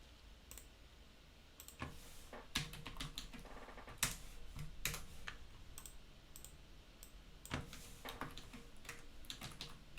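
Close, quiet clicking of keys on a computer keyboard, typed in uneven bursts with brief pauses and no talking.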